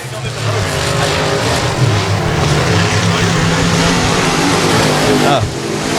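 Race cars roaring around Texarkana 67 Speedway, a dense, loud, continuous engine drone with layered revving from several cars at once, while an announcer talks over the track noise.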